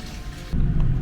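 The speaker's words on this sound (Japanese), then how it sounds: "こちらお湯ですけれども、お湯は温泉で、加水ろ過はされてるようですけれども、 こちらからお湯が出てるということになりますね。" Alkaline hot spring water pours from a spout into a large bath at Hoshino Resort Kai Nikko in Tochigi, a loud steady close-up splash and rush that swells partway through, with no voices.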